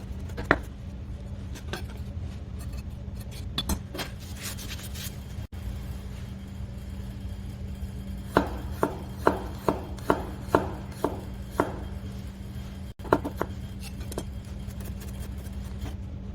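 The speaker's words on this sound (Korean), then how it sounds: "파를 곱게 다지고 마늘을 곱게 다져서 양념 준비를 합니다" Knife chopping finely on a cutting board, mincing green onion and garlic for a seasoning mix in a Korean kitchen; bursts of quick, close, crisp taps in rapid rhythm, with pauses between runs, over a low steady hum.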